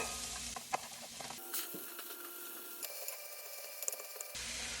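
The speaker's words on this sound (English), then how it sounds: "Chops up into little bitty pieces. So we're just going to saute this up." Finely chopped cabbage sautéing in a pan for a cabbage stroganoff, heard as a soft, close sizzle with light stirring and scraping, alone with no talking.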